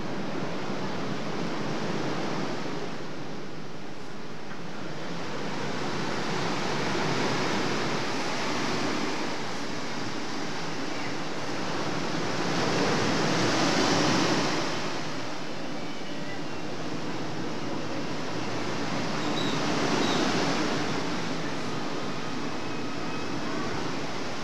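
Ocean surf rolling onto the beach at Cancun, Mexico, near a break wall, a continuous broad wash with slow swells every few seconds, steady and fairly loud with wind noise on the microphone.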